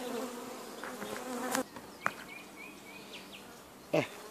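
Honeybees at an open hive during artificial swarming give a continuous droning buzz close by, with a few sharp clicks and knocks from hive work over the top.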